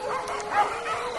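A pack of dogs barks and yips in a short cluster, overlapping excited calls heard at moderate distance, brief and without any talking.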